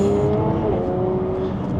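A Jaguar F-Type sports car engine hums at a steady, loud drone from inside the cabin during a smooth upshift in normal mode, with little change in pitch and no talk.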